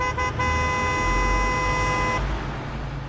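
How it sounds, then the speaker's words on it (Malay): A loud car horn blares continuously from close behind on a highway at night, a steady sustained honk holding for about two seconds before cutting off, leaving rumbling road noise. "bunyi hon yang sangat kuat bergema di belakang aku"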